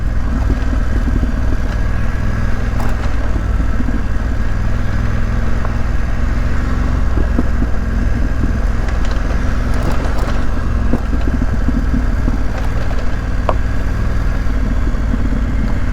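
BMW F900GS motorcycle cruising a dirt trail on Old Mill Creek Road in Tennessee, a constant loud engine drone mixed with wind rush and rough trail rumble throughout, no talk.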